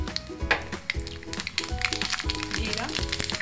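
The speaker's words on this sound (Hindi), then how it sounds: "अभी तेल गरम हो गया है, इसमें मैं अभी मस्टर्ड सीड्स डाल दूंगी" Mustard seeds crackle and sizzle in hot oil in a pan, a dense, loud frying hiss with scattered pops and occasional stirring knocks, in a home kitchen while curd rice is being prepared.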